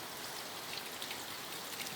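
Steady rain patters on surfaces outdoors, a dense, even hiss of drops with occasional brighter taps, moderately loud and continuous with no voices.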